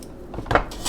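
A metal canning ring is screwed finger tight onto a hot jar of chokecherry jelly, giving a few short close metallic scrapes and clinks that build toward the end of the moment.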